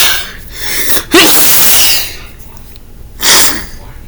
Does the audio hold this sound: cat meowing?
no